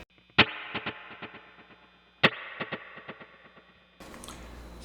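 Electric guitar rhythm through a Keeley Halo Andy Timmons dual echo delay pedal: two sharp strummed hits, each followed by a trail of quieter rhythmic repeats, ending in a burst of noisy playing.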